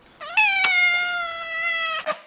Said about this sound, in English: Did you hear that meow?